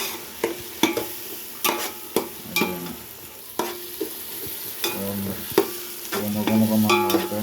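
A spoon scrapes and stirs through frying biryani with onions, tomato and green chillies, sharp repeated clatters over a steady close sizzle, no talking.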